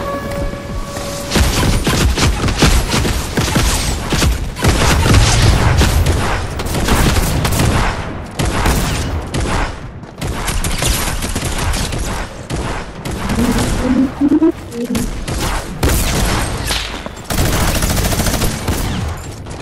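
Rapid bursts of gunfire from a Fortnite battle ring out almost continuously, loud and close, with booming blasts and brief pauses between volleys.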